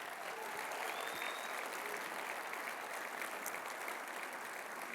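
A keynote audience at a commerce conference applauds steadily, a dense wash of clapping that stays even and fairly distant for the whole stretch, with no voices standing out.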